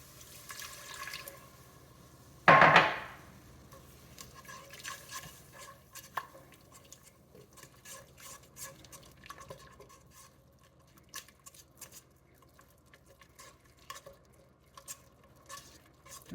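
A thick, dough-like base for Japanese white stew is worked in a pot: one sharp clank of a utensil early, then soft, sticky squelching and tapping stir sounds, quiet and close.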